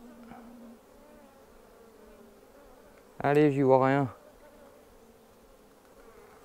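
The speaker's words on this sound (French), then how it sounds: "Qu'il y a des abeilles dessus" A close, loud burst of bee buzzing lasting about a second, from bees on a swarm, with a soft voice speaking briefly over quiet background hum.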